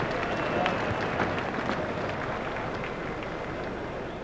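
A cricket crowd's applause at a South Africa versus West Indies match, a steady wash of clapping from a large stadium audience, fairly loud and sustained throughout.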